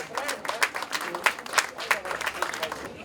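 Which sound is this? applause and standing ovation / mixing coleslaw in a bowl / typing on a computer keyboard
applause and standing ovation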